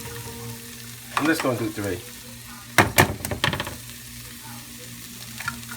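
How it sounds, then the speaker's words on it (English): Eggs are cracked one after another into a pan, giving a cluster of sharp clicks and taps amid light kitchen noise, with a person talking briefly just before. "crack the eggs"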